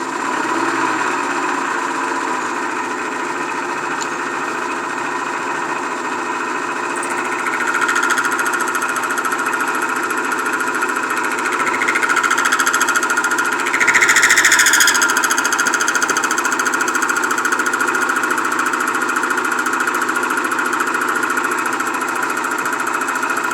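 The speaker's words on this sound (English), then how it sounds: "This is just a high-speed cutter," A high-speed cutter machines a surface grinder lead screw with a steady, dense mechanical whine and rattle, growing slightly louder partway through with brief scraping swells.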